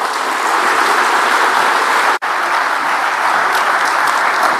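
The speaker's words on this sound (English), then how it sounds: "A good round of applause for him." Sustained applause from a large crowd at a business summit in Nairobi, dense and steady, briefly cutting out for an instant before continuing at full strength.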